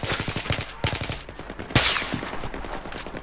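Unsilenced rifle fire in Battlefield 3 multiplayer: rapid bursts of loud, sharp shots in quick rhythm, with one heavier blast near the middle and continued shooting after, close and dominant.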